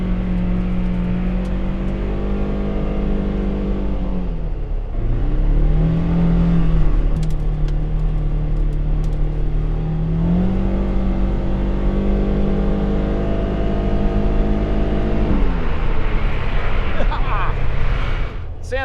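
Engine of a 2025 Polaris Xpedition UTV droning loud and close, its pitch rising and falling through several acceleration swells after the shift into high gear, with a voice talking over it.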